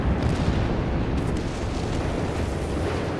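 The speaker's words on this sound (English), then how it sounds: "Everything's just pretty much exploding at this point." Artillery explosions in the video game Company of Heroes 3, a dense continuous rumble of overlapping booms, loud and heavy, with no pause in the barrage.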